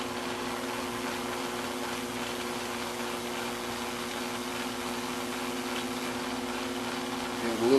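Atlas metal lathe running at about 150 RPM, a steady low mechanical hum with constant tonal drone throughout, fairly quiet and unchanging, with no talk over it.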